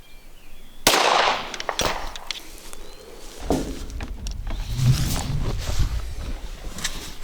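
A single loud, sharp shot from a Glock 22 .40 caliber pistol fired at a washing machine cracks close by early on. Softer shuffling and rustling follow.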